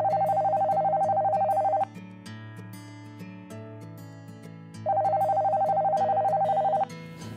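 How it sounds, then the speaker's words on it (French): Dialing a telephone call: a steady electronic ring tone sounds in two long bursts, separated by a quieter stretch, over a continuous backing tone and tune. "Téléphonons tout de suite, nous en aurons le cœur net."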